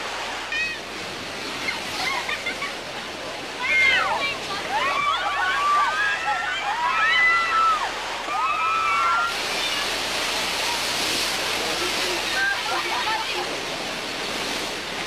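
Rushing, roaring water of the Bigfoot Rapids raft ride at Knott's Berry Farm, a broad steady wash with surges and splashes, whistles and shrieks rising over it midway.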